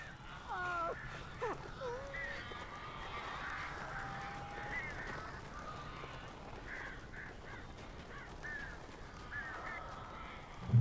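Harsh cawing and squawking calls from birds in the Alan Wake video game, clustered early and again later over a dim ambient background, mixed with indistinct voices.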